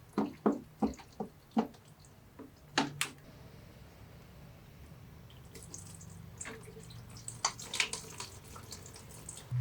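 Coolant drains from a PC water-cooling loop, starting with several close, distinct drips and knocks, then easing into a quieter stretch of faint trickling and small taps.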